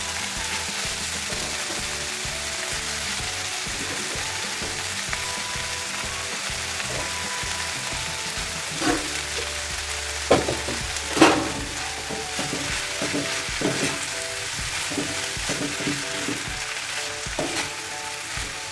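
Leftover rice frying into curry fried rice, with a continuous sizzle and repeated scraping, clinking stirs of a utensil in the pan, a few louder knocks standing out midway.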